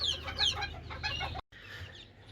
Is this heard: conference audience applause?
no